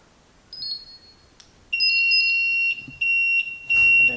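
The control panel of a Miller Bobcat 265 welder gives several high-pitched beeps, one short and then longer steady tones, clear and close in an otherwise quiet space.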